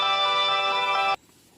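A mobile phone ringtone in a Konkani comedy short film plays loudly and steadily as a bright electronic melody, then cuts off abruptly, leaving a quiet room.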